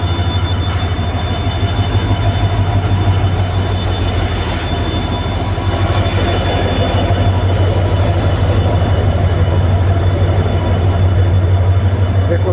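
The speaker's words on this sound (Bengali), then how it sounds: "ট্রেনখানা ছেড়ে দিয়েছে, এখন চলে যাচ্ছে।" An Indian Railways passenger train pulls out of a station, its wagons rumbling loudly and steadily with a strong low drone, brief high wheel squeals and faint clatter throughout.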